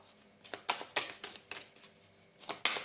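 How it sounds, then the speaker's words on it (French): Tarot cards are handled and drawn: a run of quick, crisp paper flicks and snaps, close and fairly quiet, some single and some in short clusters. "Attends, on va prendre une autre petite carte là."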